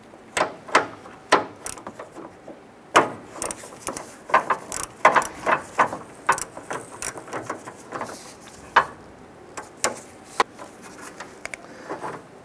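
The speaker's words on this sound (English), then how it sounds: "We need to go ahead and loosen and remove those nuts. We're going to use our socket with extension." A socket wrench with an extension loosens 13mm nuts on the AC condenser lines of a 1994-2004 Ford Mustang: a series of close, sharp ratcheting clicks in irregular bursts, with short pauses between them.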